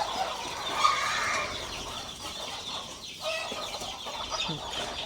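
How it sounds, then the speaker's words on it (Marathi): A large poultry farm full of chickens, the birds agitated on a summer afternoon, fills the air with overlapping clucks and squawks, a continuous nearby flock chorus with a few sharper calls standing out. "बघा मित्रांनो खूप सारे कोंबड्या आहेत खूप म्हणजे खूप सारे फार्म मोठा आहे"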